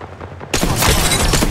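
Sudden burst of rapid automatic gunfire in Apex Legends, loud and dense, erupting after a quiet moment and continuing as sustained shooting.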